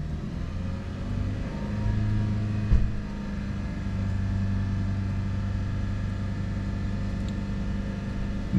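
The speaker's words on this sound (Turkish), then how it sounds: "Devre 3000'de sabit tutalım diyor." A car engine held steady at about 3000 rpm during a vehicle inspection at a TÜVTÜRK station, a constant low droning hum lasting throughout with a brief knock partway.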